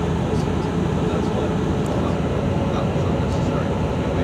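Cabin noise aboard a moving train between Salisbury and Gillingham, heard from a seat at the very end of the carriage: a loud, continuous rumble and rattle without any break.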